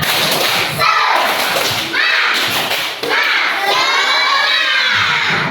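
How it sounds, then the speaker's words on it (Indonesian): Young schoolchildren in a morning class shout out a rhythmic spirit clapping chant together, loud and close, with bursts of voices and claps repeating in quick patterns across the whole span. "Coba kita tepuk semangat dulu."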